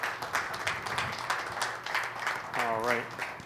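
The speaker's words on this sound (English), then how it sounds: "Big round of applause." Audience applause at a Python 2.7 end-of-life roast, steady clapping from a crowd running under a voice, which breaks into a rising tone near the end.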